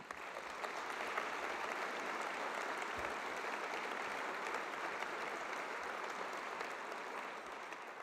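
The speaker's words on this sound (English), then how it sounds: "Please give that a big round of applause" Sustained applause from a large audience at a Cal Poly university convocation, an even, continuous patter of many hands heard from a distance, moderately faint but unbroken for the whole stretch.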